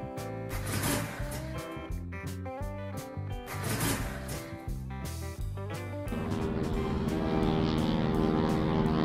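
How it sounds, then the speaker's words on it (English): An airplane, a steady droning engine with a strong, even hum that grows broader and louder toward the end, heard alone without talk. "Airplane."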